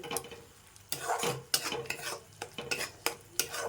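A spatula stirs spice paste in a pan over low flame, making a series of sharp scraping strokes about every half second over a faint background sizzle, close by and with no talking.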